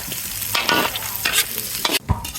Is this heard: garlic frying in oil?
yes